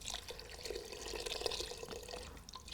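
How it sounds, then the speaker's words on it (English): Vegetable broth and water are poured over chopped vegetables in a soup pot, a soft continuous splashing and trickling of liquid at close range with no talk. "I've got enough vegetable broth here and water to cover completely."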